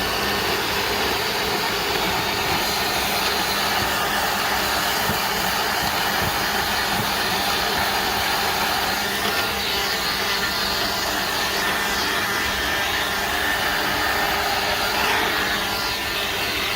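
A Black + Decker leaf blower runs continuously at close range, giving a steady, broadband rushing whoosh of air with a constant motor whine for the whole stretch and no talking.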